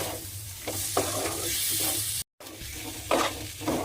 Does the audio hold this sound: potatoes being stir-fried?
yes